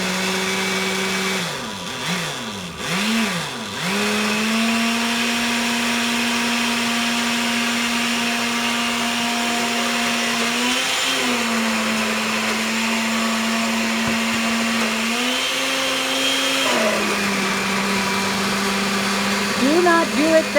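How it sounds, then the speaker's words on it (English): An old blender grinds garlic with olive oil, a loud sustained motor drone whose pitch wavers and steps up and down several times as the load shifts, running almost without pause throughout. "that's what happens when you have an old blender"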